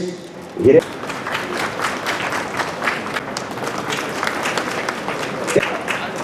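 Audience applause at an Ahir community prize-giving and honours ceremony in Bhavnagar district: a steady crowd of hands clapping for several seconds, fairly close and even, with a couple of sharper knocks and thumps near the start.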